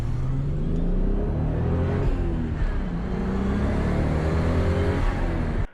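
A Toyota Supra RZ with a six-speed manual is driven hard on a highway, its engine a loud, close, steady drone that rises and shifts in pitch as it pulls, with road rumble underneath until it cuts off abruptly.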